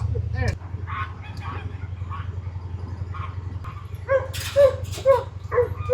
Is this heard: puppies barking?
yes